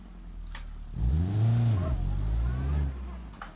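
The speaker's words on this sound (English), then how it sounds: "So let's do a roll with this car actually." A car in the BeamNG.drive video game revs and accelerates in a strong, sweeping engine tone that rises and falls for about two seconds before dropping back to a lower steady drone.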